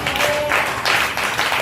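A church congregation claps their hands together in a steady, dense burst of applause that fills the room loudly and continuously from start to finish, with no voice standing out above it.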